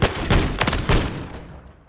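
Gunfire from a weapon set to single-shot mode in the video game Call of Duty MW3, a quick series of loud, closely spaced sharp shots that fades out toward the end, with no talk.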